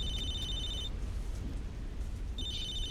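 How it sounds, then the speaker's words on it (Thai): A telephone booth rings in Halo 3: ODST, sounding as two short bursts of electronic ringing at the start and near the end, separated by a gap, over a steady low hum of rain-like ambience. "มันจะโทรหาตู้โทรศัพท์ เห็นไหมครับ"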